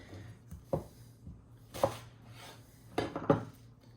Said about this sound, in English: I'm just quartering this onion.